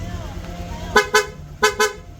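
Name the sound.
Honda Click V3 scooter horn in rapid mode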